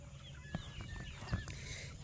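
Backyard homestead chickens give a few soft clucks at a moderate distance over a steady outdoor background hum, with two short louder calls standing out.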